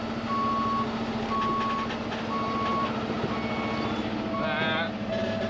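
A truck's reversing alarm beeps in three steady, evenly spaced tones over a loud diesel engine rumble while a 40,000 lb loader is backed up, with a short burst of other tones near the end.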